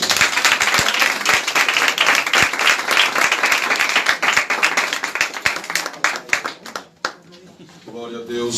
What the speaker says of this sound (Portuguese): Aplauda o Senhor, igreja.